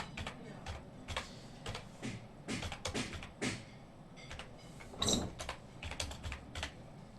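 Clicks of a computer keyboard as a number is typed into an online form, scattered bursts of quick keystrokes with short pauses, close and fairly quiet, with no one talking.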